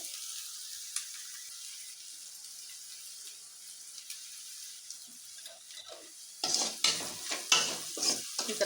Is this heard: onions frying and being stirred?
yes